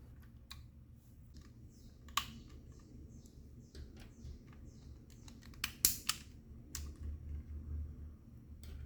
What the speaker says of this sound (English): Unscrew the modules and take off the plastic cover.